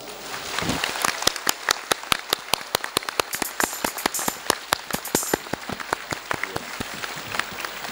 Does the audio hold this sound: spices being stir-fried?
no